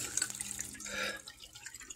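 Water pouring and trickling into a potted phalaenopsis orchid indoors, a close, steady splashing wash with small drips, no voices.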